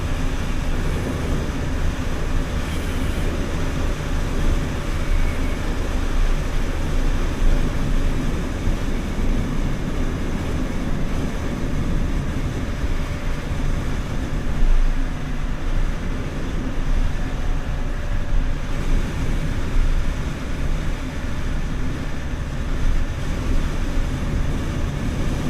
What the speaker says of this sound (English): I got the 1330cc Rotax engine.